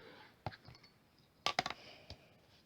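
A glue pot picked up and handled for a sticker craft, giving a few light, close clicks and knocks with short gaps between them, quiet and sharp.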